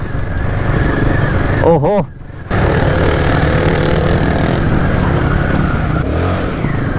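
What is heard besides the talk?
Royal Enfield Himalayan motorcycle throttle revving off road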